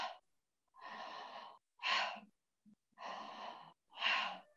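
Deep, slow breaths during a guided breathing exercise, five long airy inhales and exhales alternating in a steady rhythm with short pauses between, close and fairly soft.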